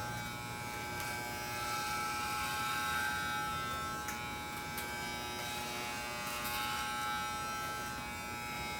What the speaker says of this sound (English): Move the clipper slow up your vertical section and off the head.